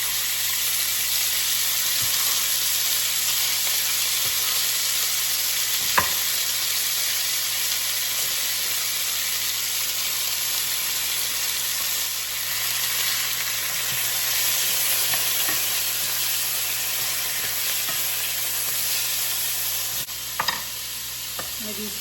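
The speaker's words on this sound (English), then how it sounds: "I'm gonna go ahead and start cooking up my chicken" Chicken sizzles steadily in a hot pan, a constant crackling hiss with a few occasional clicks and scrapes.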